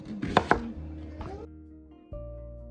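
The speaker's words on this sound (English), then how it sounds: "Now I'm just going to dice up an onion" A few sharp knife chops on a cutting board as an onion is diced, close and crisp, followed by a low hum and a brief clatter.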